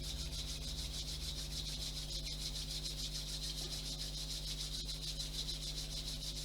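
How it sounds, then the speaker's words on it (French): Two hands rub together slowly during a gentle guided relaxation exercise, giving a soft, steady, faint swishing friction that continues evenly with no talking. "vous ramenez les deux mains l'une contre l'autre et vous les frottez un petit peu."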